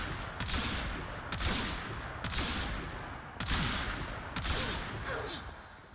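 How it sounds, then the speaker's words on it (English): Repeated Tombfinger gunshots fired at a corrupted heavy gunner in the video game Warframe: five or six loud, sharp blasts spaced roughly a second apart, each with a booming tail over steady background game noise. "And then we'll just shoot this guy with a Tombfinger."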